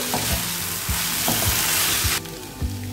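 A spiced snack mixture made from kneaded wheat-flour dough, seasoned with garam masala and chaat masala, is stirred in a sizzling pan. About five rhythmic scraping strokes sound over constant close frying hiss, with no speech.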